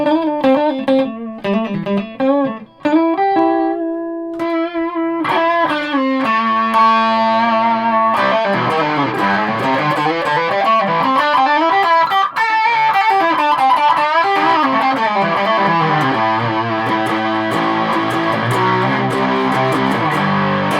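Electric guitar played through a Peavey ValveKing VK112 tube amp with spring reverb, loud and distorted, moving from single picked notes and held chords into bending, sliding lead runs, with no voices.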